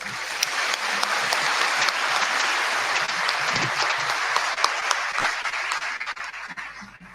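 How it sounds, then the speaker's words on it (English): An audience at a Ghanaian induction ceremony for newly qualified medical and dental practitioners gives a long round of applause for the chairman. The clapping is steady, with sharper individual claps near the end as it thins out and fades. "Can we give the chairman a very big round of applause?"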